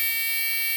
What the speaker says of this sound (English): just get yourself a buzzer